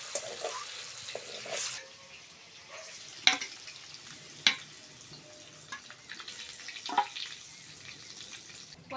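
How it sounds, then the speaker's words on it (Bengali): Eggs fry in oil with salt and turmeric in a wok, giving a faint, steady sizzle broken by a few sharp clinks and scraping stirs, heard alone and close. "প্রথমে কড়ার মধ্যে তেল দিয়ে ডিমগুলো ভেজে নেব।"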